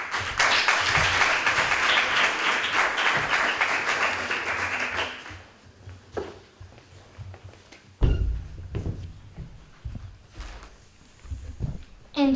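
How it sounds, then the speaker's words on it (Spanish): Audience applause for a school at a Book Day ceremony in San Roque, loud steady clapping for about five seconds that then fades, followed by scattered knocks and handling noises. "Un aplauso también para este colegio."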